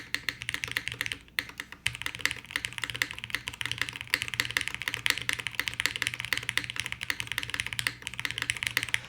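Typing on a Bina 103 full-size custom keyboard, with a rapid, steady stream of close key clacks and occasional short pauses, no voices.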